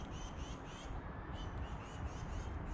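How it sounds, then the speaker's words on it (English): Crows cawing in a forest with fallen and leaning trees, repeated harsh calls over a constant rushing background, fairly faint and distant. "Very cool though, you can hear the birds."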